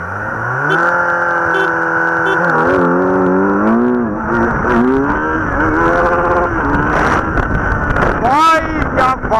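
A BS6 Kawasaki Z900 in sports mode accelerates hard, its engine note climbing steeply through the revs with brief shift dips, loud and close under heavy wind buffeting.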